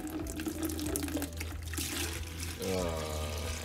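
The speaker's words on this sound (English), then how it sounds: "So just release the water." Water drains from a PVC hydroponic pipe into a bucket, gushing and splashing steadily, a continuous pouring rush with a low hum underneath.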